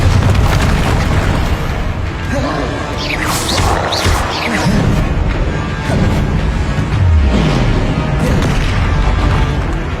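Spell combat from the video game Hogwarts Legacy, loud booming blasts and crashing explosive bursts layered densely over a constant rumbling battle bed, with sweeping magical whooshes.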